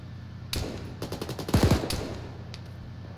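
Gunfire in the video game Arma 3: several sharp single shots, then rapid bursts of automatic fire with a heavy close cluster near the middle, fading to sparse distant shots.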